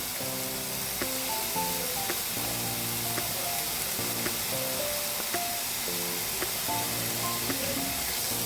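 Tomatoes frying with spring onions in a little oil, heard as a steady hiss and sizzle in a pan over background music, with faint clicks and no talk.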